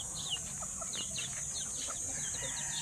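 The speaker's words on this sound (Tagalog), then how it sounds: "Ayun o, daming manok o." Many free-roaming chickens cluck and chirp softly in the distance, scattered short calls continuing steadily with no talking.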